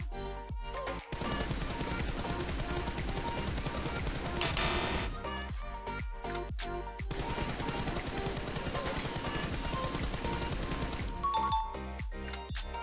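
Rapid bursts of close-range automatic gunfire from the shooter game PUBG, loud and sustained with brief gaps between strings of shots, and a voice heard faintly in the mix.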